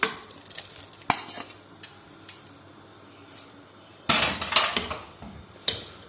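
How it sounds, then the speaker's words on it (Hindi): Chicken pieces tipped into thick haleem in a pot, a few scattered clinks and a spoon scraping, then a burst of wet sloshing and stirring near the end, close with no talk. "अब इसके अंदर जो हमने चिकन के जो पीसेस किए थे ये सारा इसके अंदर डाल देंगे।"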